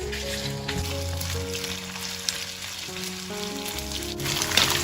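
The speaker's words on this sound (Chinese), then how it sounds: "炒锅里加入适量的油，把五花肉放进来煸香。" Pork belly stir-fries in hot oil in a wok. A steady, moderate sizzle crackles throughout beneath sustained background music tones.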